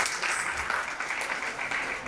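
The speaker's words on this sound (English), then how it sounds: "give them a round of applause, please." Audience applause at a debate, a steady dense patter of clapping from a crowd, moderately loud and even across the whole short stretch with no voice over it.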